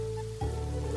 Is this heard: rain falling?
yes